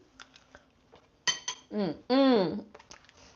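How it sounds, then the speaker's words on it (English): A lid clinks and clatters onto a pot of cooking rice in a home kitchen. The short metallic knocks are followed right away by a nearby voice. "I'm going to put the lid back on"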